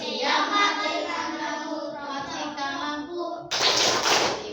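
A teacher leads an energy-saving clap chant during a teaching practice session, with rhythmic hand claps under continuous spoken chanting, ending in a burst of louder, denser clapping.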